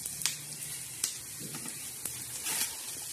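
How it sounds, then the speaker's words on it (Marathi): Coriander seeds roast in hot oil with a soft, low sizzle and crackle, punctuated by several brief sharp pops and scrapes from a spoon. "तेलात प्रथम आपण काय टाकणार आहोत तर धने टाकले. तर छान असे धने भाजून घ्यायचे लालसर."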